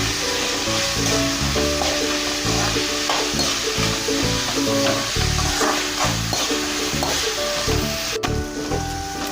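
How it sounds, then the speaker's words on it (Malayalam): Sliced onions sauté with salt and chopped green chillies in a pan, giving a loud continuous sizzle broken by repeated stirring clatter, with no talking. "സവാള നല്ല വഴന്നു വരുന്നതിനായിട്ട് നമുക്ക് അല്പം ഉപ്പിട്ട് കൊടുക്കാം"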